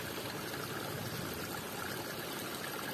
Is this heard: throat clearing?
no